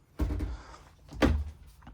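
Two wooden thuds and rattles come from louvered closet doors being opened inside a 2026 Winnebago Thrive 24RKS RV, close and fairly loud, with no talking.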